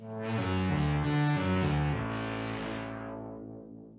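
Sustained electric guitar chords drenched in heavy, shimmering reverb from an Empress Reverb pedal and distortion, swelling loudly then slowly decaying into a washy, metallic tail.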